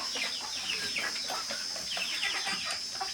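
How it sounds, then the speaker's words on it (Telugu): Free-range country chickens cluck and chatter steadily in an outdoor farmyard, with soft repeated calls from several birds over a constant high insect-like hum. "నా దగ్గర అయితే బయట తిరిగే కోళ్ళు ఉంటాయి"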